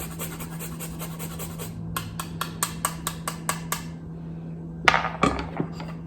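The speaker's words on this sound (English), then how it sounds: "I have some fresh nutmeg that I'm just going to grate right on top" Fresh nutmeg is grated over apples for a galette, heard as a series of short, crisp rasping strokes in an even rhythm, followed by a couple of sharper clattering knocks, close and fairly quiet over a faint steady hum.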